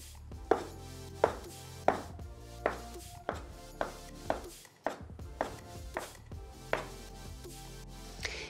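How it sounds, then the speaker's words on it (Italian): Knife cutting potato gnocchi from a rope of dough about 2 cm thick on a board, a steady series of about a dozen crisp close taps at a regular rhythm, with no speech. "formo un filoncino, così di un diametro di circa 2 cm e vado a staccare gli gnocchi"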